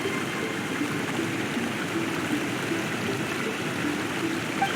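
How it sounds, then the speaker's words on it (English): A waterfall in the Genshin Impact video game, a steady rushing, broadband wash of falling water that holds at an even moderate level throughout with no voices. "he's meditating while sitting in a waterfall"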